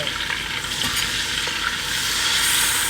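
Tomatoes dropped into a pan of frying okra soup base, giving a steady, loud sizzle with stirring noise throughout and no talking.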